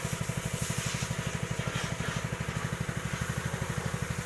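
Small motorcycle engine idling with a steady, rapid pulsing beat, close and fairly loud, at a motorbike wash session.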